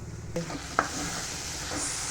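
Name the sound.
sizzling tempering for raita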